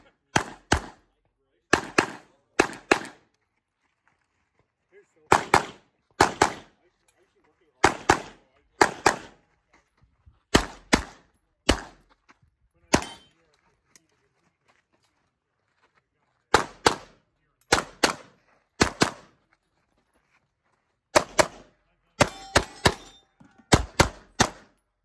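Pistol shots at an outdoor Carry Optics shooting match ring out in rapid pairs and bursts, loud and sharp, separated by short pauses, with occasional voices between strings.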